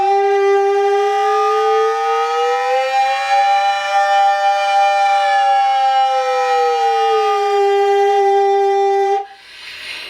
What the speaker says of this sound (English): I like to add a little bit of portamento, that's the kind of movement between the notes